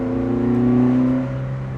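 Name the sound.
Alpine A110 rally car engine revving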